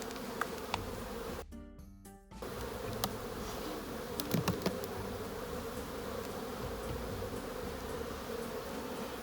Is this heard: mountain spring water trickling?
no